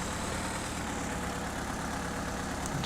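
Tractor engine idling in the Farming Simulator 2015 game, played on the Belgique Profonde mod map, a steady low rumbling drone that holds at an even level throughout with no voices over it.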